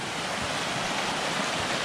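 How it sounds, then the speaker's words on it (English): Steady, broad rushing roar of an outdoor waterfall pouring among old giant stones, loud and continuous with no break and no voices. "Look at this beautiful waterfall over here and these old giant stones."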